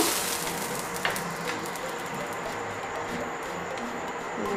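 Oil sizzles steadily on a hot tawa as it is spread across with a potato for chita pitha, a continuous close frying hiss with a few soft scraping ticks and no voices.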